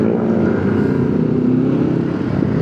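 A motorcycle ridden on a New Year's night ride, its engine droning steadily and loudly from close by with a constant low rumble and wind, no voices.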